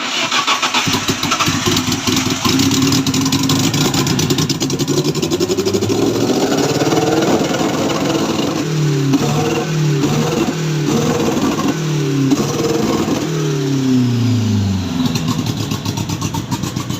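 A turbocharged BMW 316 car engine cranks and catches, then revs repeatedly in loud rising and falling sweeps before settling, heard close up with no talk.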